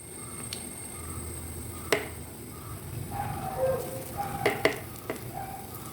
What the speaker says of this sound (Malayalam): നമുക്ക് നമ്മുടെ ഉണ്ണിയപ്പത്തിൻ്റെ മാവ് ഒഴിച്ച് കൊടുക്കാം ഇതിലേക്ക്.